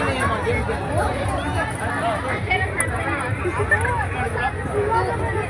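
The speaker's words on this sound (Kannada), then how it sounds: "ತುಂಬಾನೇ ಕ್ರೌಡ್ ಇದೆ." Dense crowd hubbub fills a busy indoor venue at night where families shop and play arcade-style games, a steady wash of overlapping voices and babble with no single speaker standing out.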